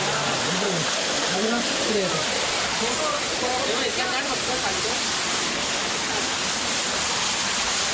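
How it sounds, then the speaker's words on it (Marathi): Water gushing under pressure out of holes in stone near a temple, a steady broadband rush of falling and splashing water throughout, with a voice speaking faintly underneath. "बघा होलमधून पाणी यायला लागलं, इतका जास्त प्रेशर आहे आणि तिकडून बी पाणी खाली पडायला लागलं"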